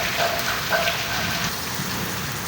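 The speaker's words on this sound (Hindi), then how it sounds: "बारिश है जिसकी वजह से ये" Steady rain falls during a rainy-season day near rooftop solar panels, forming a loud, even broadband hiss that never lets up, with no voices.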